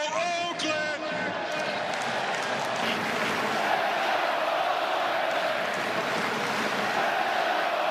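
A large baseball crowd of Oakland A's fans at a stadium cheers in a sustained, loud roar that fills the whole stretch without a break.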